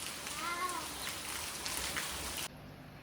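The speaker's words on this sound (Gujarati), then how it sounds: "અમારે જોરદાર વરસાદ ચાલુ થઈ ગયો છે" Heavy rain falls steadily as a dense, hissing wash of drops that stays loud and even throughout, with a faint voice briefly audible in the background.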